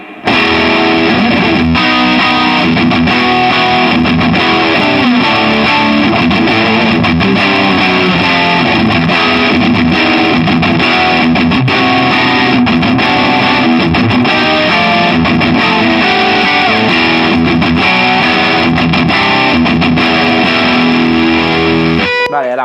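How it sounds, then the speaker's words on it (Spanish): Fender Telecaster American Special electric guitar played through heavy distortion, a loud, continuous run of chugging chords and riffs that stays dense and sustained for the whole stretch with no talking. "Voy a poner distorsión para señoras."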